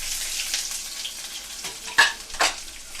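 Finely chopped onion frying in a pan with a little cumin, a soft steady sizzle broken by a couple of louder stirring scrapes near the end.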